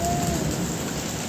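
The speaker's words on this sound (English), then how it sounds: "Oh, that's a little bit bigger hail." Hail mixed with rain pelts down in a windy storm, a loud dense hiss of impacts with a low rumble beneath, steady throughout.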